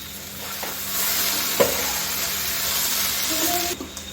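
Okra and potato stir-fry sizzles steadily in a pan over a full flame, a constant frying hiss with a couple of brief scraping stirs.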